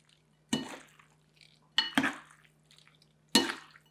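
Keto pad thai noodles stirred with sauce in a pan: three distinct wet scraping and clinking strokes of a utensil against the pan, close and fairly loud, separated by quiet gaps, with a faint steady hum underneath.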